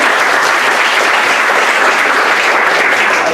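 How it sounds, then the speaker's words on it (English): Audience applause fills the room, steady and dense clapping from a large crowd throughout, loud and continuous with no break. "let's begin by giving Vincent and company a big round of applause"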